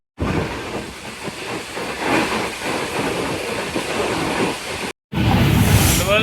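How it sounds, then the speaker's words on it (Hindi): A GU40 diesel locomotive hauls a container special train, giving a steady loud rumble and hiss of passing rail cars, broken by a brief cut before the noise resumes. "GU40 की पावर हॉल कर रही है अब कंटेनर स्पेशल को।"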